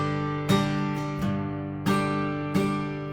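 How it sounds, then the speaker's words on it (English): Acoustic guitar in waltz time: a low bass string note followed by two strummed chords, repeating in a steady one-two-three pattern, close and clear with no talking. "We're just going to play the bass note, the bass string for whatever chord we're on, and then strum twice"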